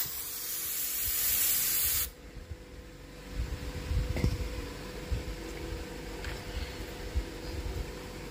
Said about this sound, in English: Here's a big Q-tip and some red brake cleaner.